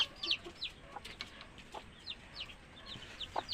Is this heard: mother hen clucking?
yes